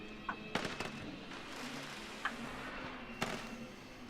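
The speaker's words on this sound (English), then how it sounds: "Peony Burst multi-firework." A Peony Burst multi-firework in the theme-park game Planet Coaster goes off, a few sharp distant pops and bursts scattered over a steady ambient bed.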